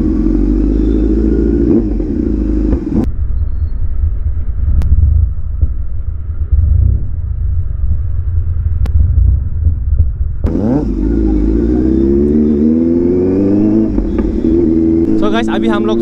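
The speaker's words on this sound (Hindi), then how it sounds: "मेरा गोब्लिन को टॉप टूप करके बैक फायर मार रहा है।" A superbike engine revving hard, its pitch rising and falling in repeated throttle blips, punctuated by a few sharp, loud backfire pops, with a deep idle rumble between revs close to the listener.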